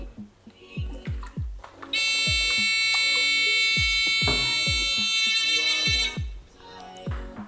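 A homemade rain detector alarm gives a loud, steady electronic buzz for about four seconds, with clicking and handling sounds before and after.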